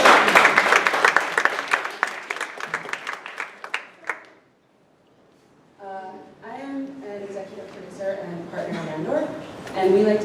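Applause at a live event for creatives, dense clapping that thins and fades out by about four seconds, followed by a pause and then someone speaking.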